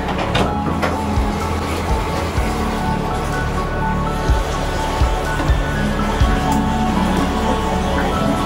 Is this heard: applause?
no